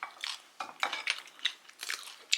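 Crisp, crunchy food bitten and chewed close to the mic at a home meal, a quick series of sharp crunches in an uneven rhythm with short pauses between them.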